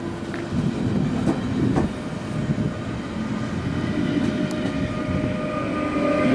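A passenger train rolling steadily along the rails, with a low rumble, occasional clicks and squeaks, heard from inside the carriage.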